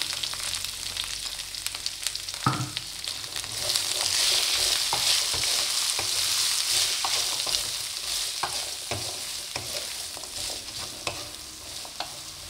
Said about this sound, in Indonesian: kita tumis cabai rawitnya. Tinggal saja. Lalu masukkan tangkai sawinya dahulu.